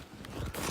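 Rough, scratchy zipper runs on a large paintball roller bag, with short bursts of rasping teeth sliding close by, loud against a noisy background and no talking.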